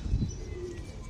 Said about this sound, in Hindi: चेक करें अपने कबूतर दाना खा रहे